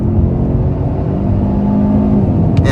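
A 2023 Kia Sorento EX accelerates hard in third gear, its engine droning steadily and rising in pitch inside the cabin, with a smooth continuous rumble and a brief tick near the end.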